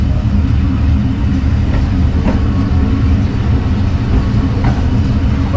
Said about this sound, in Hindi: इस वक्त ये बादामी बाग से हम थ्रू पास कर रहे हैं बहुत ही हल्की स्पीड में